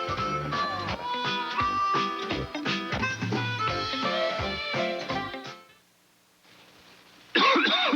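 Coughing in a 1980s television cough medicine commercial: repeated rough bursts over several seconds, a brief lull, then a sharp loud cough near the end.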